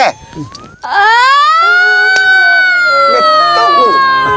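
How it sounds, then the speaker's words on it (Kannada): A loud, rising and falling siren wail rings out continuously with strong harmonics, starting after a brief noisy moment and holding steady to the end, with some voice-like sounds mixed in. "ಸೈರನ್ ಈ ಸೈರನ್ನ"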